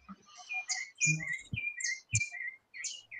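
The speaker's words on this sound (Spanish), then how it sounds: "se escuchan tus pajaritos" Small birds chirp and tweet in quick, bright bursts, several calls overlapping nearby, with a few soft low thumps between them.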